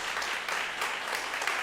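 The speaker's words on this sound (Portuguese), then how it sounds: "o teu povo aplaudiria como fará agora" A church congregation gives steady, dense applause at a worship service, filling the short stretch with continuous clapping and no pauses.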